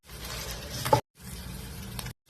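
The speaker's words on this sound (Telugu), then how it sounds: "తాళింపు వేస్తున్నాము" Tempering of mustard seeds, cumin, urad and chana dal, garlic, curry leaves and dried red chillies sizzles in hot oil for gongura dal, a soft crackling hiss in two short bursts broken by abrupt gaps.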